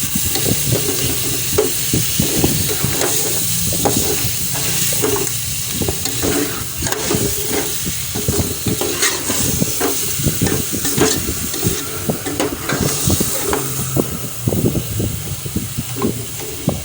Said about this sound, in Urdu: گوشت کو پیاز میں، گھی میں اچھی طرح بھونیں گے